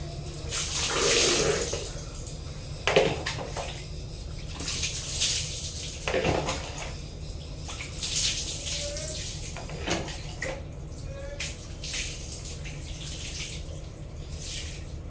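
Weak tap water runs in a bathroom with low water pressure, a thin continuous hiss and splash broken by bumps and clatter, while someone talks over it.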